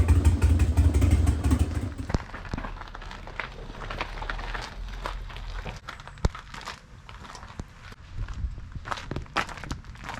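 A Harley-Davidson Dyna motorcycle being rebuilt after a wreck runs loudly at first, then settles into a lower rumble as it is pushed and ridden outside, with scattered footsteps and clatter nearby.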